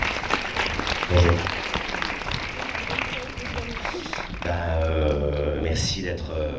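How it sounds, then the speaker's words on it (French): An audience applauds to welcome filmmaker Xavier Dolan at a presentation of his film Mommy, with dense clapping early and a voice talking over it toward the end. "Donc je vous demande dès maintenant de l'applaudir, Xavier Dolan."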